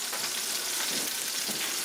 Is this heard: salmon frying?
yes